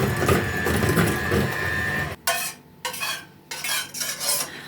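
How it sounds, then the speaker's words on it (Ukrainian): Sour cream and cottage cheese for a savoiardi biscuit cake are beaten together, first as a continuous whirring mix, then as several separate rhythmic scraping stirs in a bowl, close and moderately loud with no talking. "Ще раз гарно все перебиваємо, перемішуємо."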